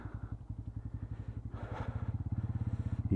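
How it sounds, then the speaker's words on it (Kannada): A motorcycle engine idles close by in the early morning, its rapid even exhaust pulses thumping steadily and growing slightly louder and quicker toward the end. "ಬೆಳಗ್ಗೆ ಗಾಡಿ ಸೌಂಡ್ ಕೇಳೋಕೆ ಏನೋ ಒಂಥರ ಇಂಪು ಅನಿಸುತ್ತೆ"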